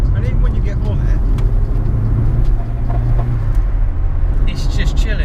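Steady low road rumble inside a Ford Fiesta RS Turbo on the move, a dense continuous drone with a faint higher hiss, close and constant, with a few soft clicks near the end.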